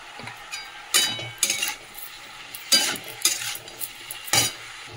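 Greens being sautéed in a pan with salt and turmeric, a soft sizzle broken by several sharp bursts of stirring and scraping at uneven intervals.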